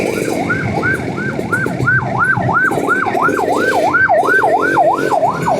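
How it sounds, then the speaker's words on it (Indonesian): Ambulance siren wailing in a steady, regular up-and-down sweep, loud and close, repeating continuously over road and engine noise on a beach-bound ride to Pelabuhan Ratu. "Ambulannya datang."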